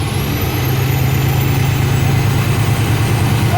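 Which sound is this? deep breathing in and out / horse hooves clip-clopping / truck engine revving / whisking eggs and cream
truck engine revving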